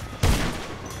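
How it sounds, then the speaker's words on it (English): A single heavy sniper rifle shot rings out in GTA 5 Online, a sudden close blast followed by a long rumbling, reverberant tail. "Oh, we having a little sniper action, man. Sniper battle."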